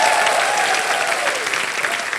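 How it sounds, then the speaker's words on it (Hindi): Loud studio-audience applause on a Hindi Wheel of Fortune game show, a dense steady wash of clapping that fills the whole moment with no voices over it. "जोरदार तालियां।"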